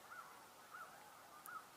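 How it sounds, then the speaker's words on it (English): A crow caws three times at evenly spaced intervals, sounding faint and distant over a quiet outdoor background with no talking. "I believe I hear a crow."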